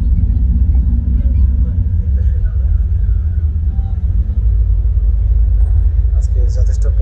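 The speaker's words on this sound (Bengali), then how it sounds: "হুলু মালে থেকে এখন বাসে করে যাচ্ছি মালে" Steady low engine rumble and road drone inside a bus travelling from Hulhumalé to Malé in the Maldives, loud and continuous throughout, with faint voices in the background.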